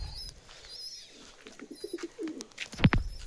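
Pet birds in a cage, soft cooing from a pigeon or dove with faint high chirps behind, ending in a louder close rustle or flutter.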